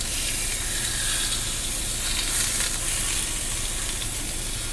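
Pork sizzles in a hot pan with oil, a dense continuous hiss and crackle, close and steady without any voices.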